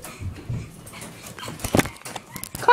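A puppy whimpers and yips from inside a cage, with short, faint whines and a few sharper yelps scattered through the clip amid soft rustling.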